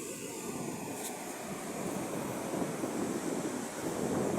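Large monsoon waves surging onto Aroma Beach in San Jose, Occidental Mindoro, during a storm, a steady, dense roar of surf mixed with heavy wind buffeting the microphone, building slightly louder toward the end with no voices.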